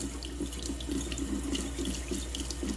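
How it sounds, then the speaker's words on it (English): Tap water runs steadily through a fine strainer to rinse small hardy kiwi seeds, a constant close splashing rush with a gurgling patter underneath and no voices. "you just run some water through it"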